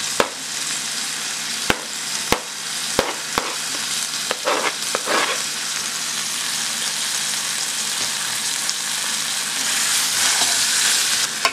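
Tomatoes and green chili fry in a pan with a loud, steady sizzle, broken early by several sharp clinks of a spoon against the pan, then a hiss that swells toward the end.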